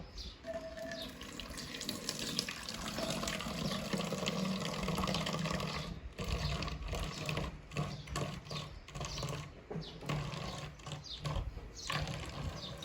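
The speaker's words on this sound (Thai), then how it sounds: "เทลงในเหยือกแบบนี้นะครับ จนเต็มนะครับ" Mixed liquid fertilizer pours steadily into a jug for several seconds, a continuous splashing gush with occasional clunks and handling noises, close up, without speech.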